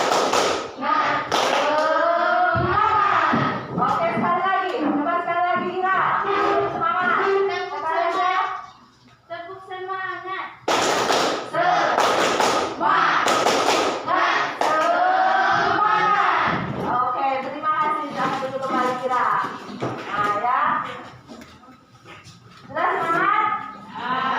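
A primary school class stands and performs the 'tepuk semangat' chant, many voices calling out together over rhythmic bursts of hand clapping, loud and close throughout, with brief pauses between rounds.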